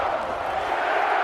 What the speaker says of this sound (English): Every single one of this crowd's clapping.